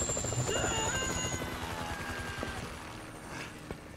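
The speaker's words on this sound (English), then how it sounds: "A chopper, you're kidding me." Helicopter in the video game Grand Theft Auto 5, its steady rotor chop thudding loud and continuous throughout, with game engine and ambient noise layered in and no speech over it.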